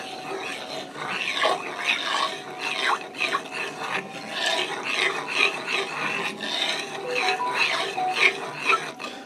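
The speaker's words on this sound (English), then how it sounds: "I'm going to give that a stir" Garlic chicken with bacon being stirred in a pan: close, repeated scraping and rubbing strokes with a soft, rasping rhythm, and little or no talking.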